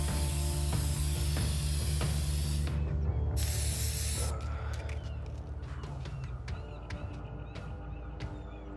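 A spray can hisses in inFAMOUS Second Son, a loud, steady burst of aerosol noise lasting a few seconds over a low rumbling game ambience, followed by scattered clicks and rattles.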